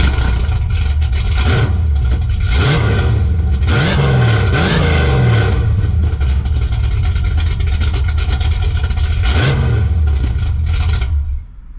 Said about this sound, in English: we're gonna put the camera where one of the exhausts is, and it makes a very nice and menacing sound